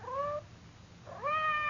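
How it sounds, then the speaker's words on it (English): A house cat gives two drawn-out, rising-then-falling meows close by, a sound effect in a radio mystery drama, with a short quiet gap between the calls. "It sounded like Madame's cat, Francois."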